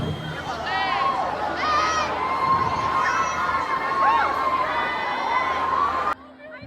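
A concert crowd at a show cheers and shrieks loudly and continuously, with high-pitched screams and yells rising over dense crowd noise before it cuts off abruptly near the end.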